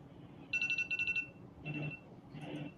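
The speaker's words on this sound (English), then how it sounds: "Yep, the alarm has gone off." An electronic alarm goes off at an aquarium fish auction, a quiet pulsing beep in short bursts, followed by faint murmuring voices in the background.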